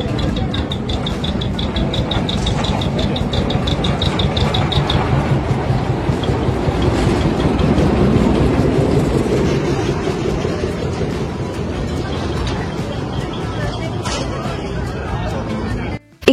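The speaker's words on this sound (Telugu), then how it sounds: "ఇంకొకటేమో ఇలా టాయ్ ట్రైన్ లో వెళ్ళొచ్చు" Toy train carrying visitors toward the Elephanta Caves near Mumbai: a continuous loud rumble of the moving carriages, heavy throughout, under a busy babble of passengers chatting, with a brief whistle-like tone early on.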